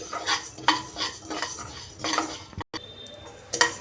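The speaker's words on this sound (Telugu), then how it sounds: "ఒక రెండు మూడు నిమిషాలు బాగా మీడియం ఫ్లేమ్లో మనం ఫ్రై చేసుకోవాలి" A spoon stirs frying ingredients for tomato pickle in a pan over a medium flame. The stirring gives repeated scraping strokes against the metal, close and moderately quiet, over a faint sizzle, and nobody speaks.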